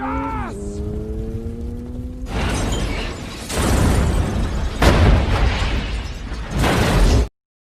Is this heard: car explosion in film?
yes